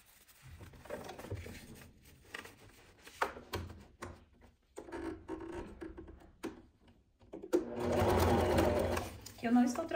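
A sewing machine stitches the top part of a two-tone nylon bag, with intermittent short runs and fabric handling followed by a louder sustained whir near the end, while someone talks over it.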